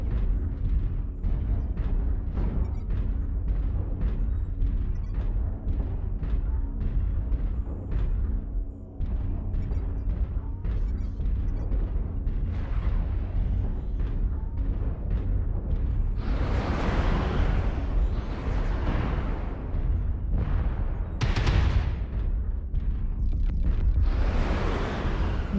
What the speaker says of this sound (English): Artillery strike online. Target acquired.